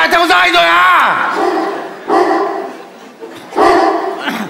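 A dog barks in loud, close bursts, one long yelping bark followed by two shorter barks, with room noise between.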